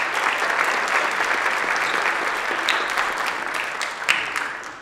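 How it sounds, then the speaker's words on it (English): An audience at a high school big band concert applauds the student musicians: dense, sustained clapping from a crowd, close and loud, with a few sharper individual claps standing out near the end. "You can give them a round of applause."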